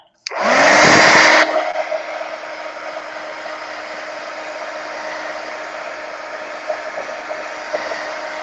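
Heat tool or dryer blowing on a stencil over an art trading card, starting with a loud surge then settling into a steady, close whirring hiss that runs continuously.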